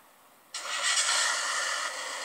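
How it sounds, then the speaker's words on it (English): A truck engine with loud exhausts in Farming Simulator 2013 suddenly roars to life after a quiet moment, then holds a loud, steady hissing drone. "It does have a loud engine in it too, and it's got loud exhausts in it too."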